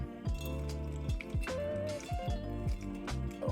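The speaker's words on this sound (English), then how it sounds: "So what we're gonna do now is strain this again." Homemade vegan lemon jam with zest is pushed through a kitchen strainer, giving soft wet squelches, drips and occasional light clinks of utensil on metal, faint and close with no talking.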